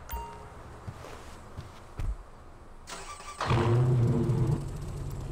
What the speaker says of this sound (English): With the real track hawk sounds in that bit